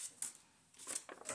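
Scissors cutting paper for a junk journal page, a few short crisp snips in quick succession, close and quiet.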